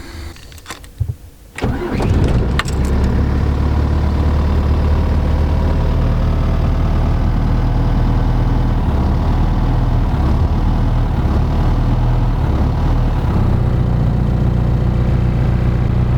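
A camper van engine cranks over and fires, then settles into a steady, loud, close idle that runs on alone without talk.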